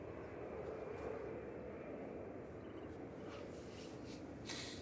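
A large airplane with massive engines passes at Manchester Airport, a steady distant jet roar that stays broad and even, with faint background noise.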